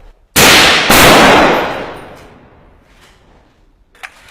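Two loud close gunshots crack in quick succession during urban combat against ISIS in Marawi, each blast ringing out and decaying over about a second, followed by a faint distant report.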